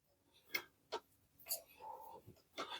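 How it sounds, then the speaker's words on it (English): Metal wrench tightening a bolt during assembly of a Tamobyke TB20 bike, a few sharp ticks and clicks at irregular intervals, close and faint, with a brief murmur of voice. "all you got to do is tighten it down with the wrench that came with it"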